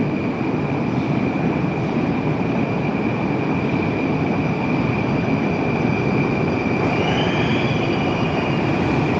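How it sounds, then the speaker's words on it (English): A Moscow Metro train arriving at a station: a loud, continuous rumble of wheels on rails with a steady metallic whine and a brief squeal toward the end, alone with no talking. "There's the next train. The trains are different on this line."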